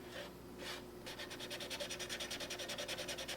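A cotton swab rubs and squeegees across the clear lens of a 1974–1985 full-size Jeep gauge cluster, giving a close, soft rhythmic rasping that turns into quick repeated strokes.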